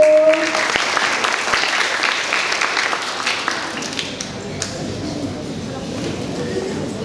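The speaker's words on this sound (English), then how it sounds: "Give applause for number 4." An audience at a junior high school English competition gives loud, dense applause for a participant, starting strong and tapering to lighter clapping, with a voice heard briefly at the start.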